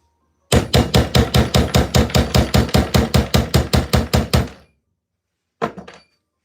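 A steel pin punch is struck repeatedly with a hammer against a pin in a hickory golf club head, about seventeen sharp, evenly spaced metallic blows, then a pause and one final strike.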